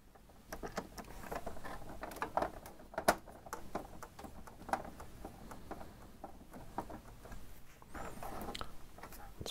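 Screws being driven into the plastic casing of an Epson XP-510 printer, heard as a close, steady run of small clicking and ticking noises over several seconds.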